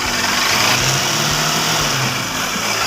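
The engine of vehicle KL63G8761, which has a battery charging complaint, runs steadily up close, a dense, rough mechanical roar with no clear rev peaks across the short stretch.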